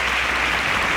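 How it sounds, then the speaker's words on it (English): Audience applause for quiz competition contestants leaving the stage, a steady, dense roar of clapping, loud and continuous throughout the brief moment. "a round of applause for them as they exit the stage"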